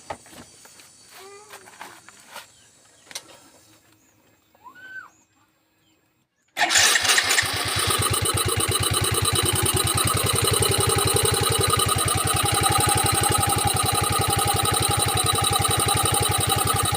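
A Yamaha Mio i 125 scooter fitted with an aftermarket torque drive starts after a few quiet knocks and clicks, then settles into a loud, steady idle close by for the rest of the stretch.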